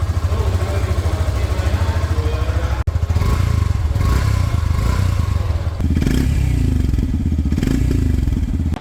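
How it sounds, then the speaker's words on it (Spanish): A 2026 Yamaha FZ 3.0 motorcycle engine idles steadily up close, a loud continuous low throbbing rumble with mechanical clatter, briefly cut by a thump near the three-second mark and a slight shift in tone later on. "Escuchemos por acá la parte del motor."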